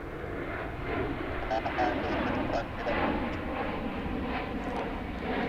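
Flight 2767 to Seattle departs DFW International Airport as a distant, steady jet roar with gently swelling loudness, while a person talks over the engine noise.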